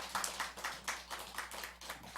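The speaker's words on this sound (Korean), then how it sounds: "박수로 우리 환영해 주시면 좋겠습니다" A church congregation applauding in welcome, a faint, distant patter of many hands clapping in quick uneven bursts for a couple of seconds.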